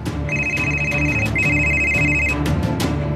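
A mobile phone rings loudly and close, a steady electronic trill in two long bursts with a brief gap between them.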